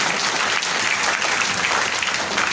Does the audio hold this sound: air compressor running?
no